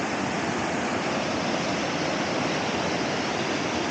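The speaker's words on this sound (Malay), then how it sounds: "ada satu air terjun ni" Waterfall near a clear, cold river in the Cameron Highlands, heard as a steady, dense rush of falling water close by with no other sounds.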